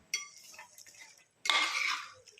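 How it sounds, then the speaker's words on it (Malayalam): Chicken curry being stirred in a pot after hot water is added for gravy: a few light utensil clinks and scrapes, then a louder, longer stretch of scraping and clattering against the pot, close and without speech. "നമുക്കിതൊന്ന് ഇളക്കി കൊടുക്കാം."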